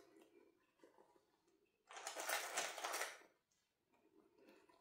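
A sewing machine runs a short burst of stitching along a seam on a fabric pouch, loud and close for about a second after a quiet start, then stops, leaving light handling noise.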